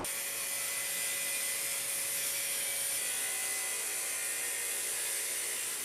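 A vacuum cleaner whines continuously at steady volume, a high-pitched motor hum with a constant airy rush and no variation.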